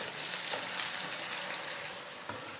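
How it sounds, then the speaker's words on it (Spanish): Beef steaks frying in hot oil over a high flame, a steady dense sizzle and crackle that holds loud and close throughout, with a few small pops and no voices. "Calentamos el aceite y los bifes."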